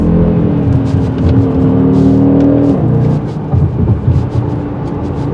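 The 2.5-litre five-cylinder engine of a 2023 Audi RS Q3 Sportback revs loudly up close, its pitch rising and holding before dropping off sharply, then settling into a rougher, lumpier idle.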